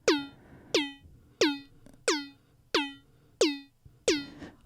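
Erica Synths Pico Drum2 drum synth using FM and wavefolding fires seven evenly spaced, loud, horn-like synthetic hits with falling pitch sweeps and buzzy overtones, no talk.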